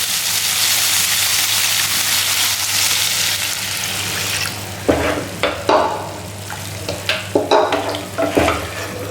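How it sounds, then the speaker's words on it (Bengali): Gravy liquid is poured over cauliflower and potato frying in a pan, a loud rushing hiss that settles into sizzling, followed by a run of close scraping stirs. "এবার আমি ঝোল দিয়ে দিচ্ছি।"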